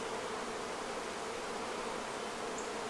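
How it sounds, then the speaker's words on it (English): Honeybees buzz in a steady, dense drone around a Flow hive after a new queen goes in, close and continuous with no talk. "with the exception of the bees swarming my face, the rest of the hive got calm"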